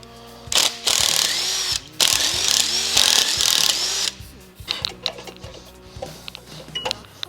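An impact wrench rattles off flywheel bolts during removal of an MK4 engine, with two long hammering bursts followed by shorter, choppier clatters and tool handling noises.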